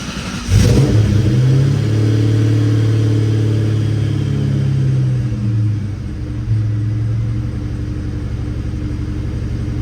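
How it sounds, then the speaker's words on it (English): A car engine fitted with a new Cobra throttle body cold-starts and settles into a high, steady idle around 1500 rpm, a loud close rumble that runs alone with no talk. "right now we've got an idle at about 1500, which is normal for this cold start"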